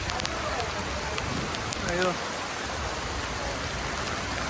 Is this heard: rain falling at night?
yes